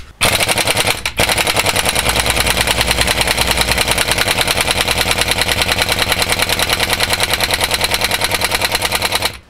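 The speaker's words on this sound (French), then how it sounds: "Donc visser." A screwdriver drives a screw back into its hole: a loud, continuous, rapid rattling buzz runs for about nine seconds after a brief break near the start.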